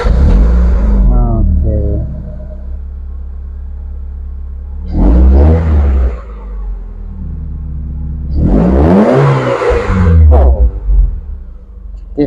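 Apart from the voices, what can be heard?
Honda SM4 car engine starting and revving after fuel pump repair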